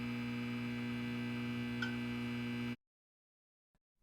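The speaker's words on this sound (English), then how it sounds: "For this panel, I'm going to use this mechanical humming sound." A steady mechanical hum with a strong low drone and layered buzzing overtones runs loud and unchanging, then cuts off abruptly into near silence before a faint tick at the end.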